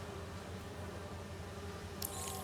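Bees buzz in the video game Marvel's Spider-Man 2 as a continuous low, droning hum held steadily at moderate volume, with a brief brighter rustle near the end.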